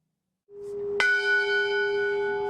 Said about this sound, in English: Each ring of the bell